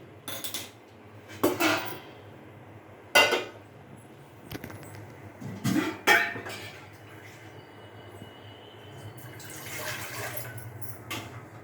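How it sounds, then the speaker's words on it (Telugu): A cooking pot set on the stove to boil broad beans for a tomato curry: several separate metallic clanks and scrapes of the vessel, spaced apart, over a low steady background hum. "పైన గిన్నె పెట్టుకొని మనం ఇది చిక్కుడుకాయ ఉడికించాలండి"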